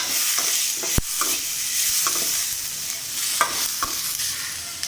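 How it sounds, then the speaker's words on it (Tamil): Garlic cloves, tamarind and mint being sautéed in a pan, with an even sizzle under repeated scraping and stirring strokes and a sharp clink of the utensil against the metal near the start. "பூண்டு பல், புளி எல்லாத்தையுமே இது கூட சேர்த்து நல்லா வதக்கணும்"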